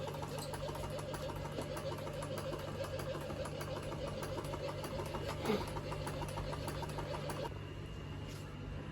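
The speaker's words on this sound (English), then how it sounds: "we're going to hit prime. This will internally prime the internal unit" Rapid infuser pump running a steady mechanical hum with a fine rapid ticking rhythm while priming its internal unit, constant and close for several seconds before easing slightly near the end.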